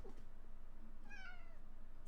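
A cat gives a single clear meow midway through, rising and then falling. It is close and alone over a low steady background hum.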